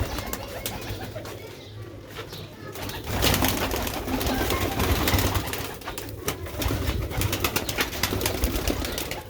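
Sialkoti black-faced pigeons coo near at hand over a busy background, with bursts of wing flapping and clattering mixed in.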